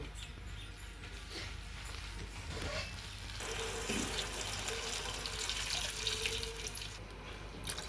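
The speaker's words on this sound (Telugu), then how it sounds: "ఈ గ్లాసు వాటర్ పోస్తున్నా" Water pours steadily from a glass into a pot, a continuous splashing rush at moderate volume with no voices.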